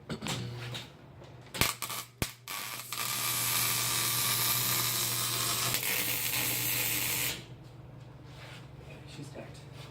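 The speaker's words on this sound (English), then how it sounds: "Welding." A tack weld on a hood exit wastegate gives a steady, close crackling buzz lasting several seconds, preceded by sharp metallic clicks and fading into quieter shop noise.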